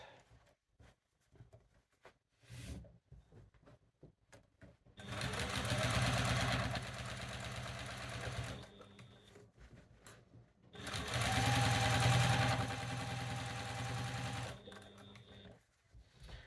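A sewing machine quilts a quilt in two long running bursts of rapid mechanical stitching. The bursts are separated by quiet pauses filled with soft handling clicks and brief stop-start whirs.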